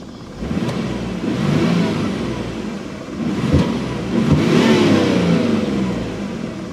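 The twin-turbo exhaust of a 1991 Dodge Stealth RT in touring mode revs loudly and close, swelling through two drawn-out pulls with a deep rumble and a raspy roar, and no talking.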